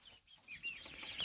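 Young chickens in a brooder box give soft, faint clucks and chirps that rise and fall over a quiet background.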